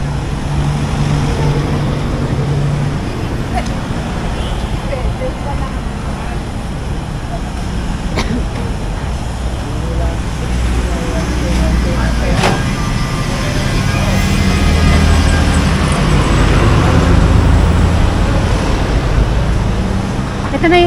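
Busy city street traffic near UST in Manila: a dense, continuous rumble of passing cars, trucks and buses, heard up close while walking, with people talking over it throughout.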